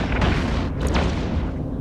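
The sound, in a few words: Armageddon ship exploding in EVE Echoes video game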